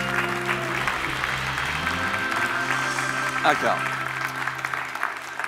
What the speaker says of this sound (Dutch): Ja, een applaus voor hem.